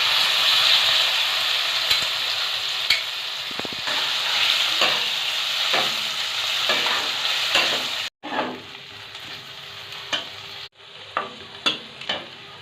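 Paste of ground long beans hits a pan of fried garlic and onion, crackling in a steady, close sizzle with stirring scrapes, then quieter sizzling broken by sharp spoon clatters toward the end; no talk.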